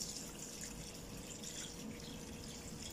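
Water poured into a pot while cooking bitter leaf soup, a steady continuous splashing pour that runs throughout at moderate, even loudness with no talk.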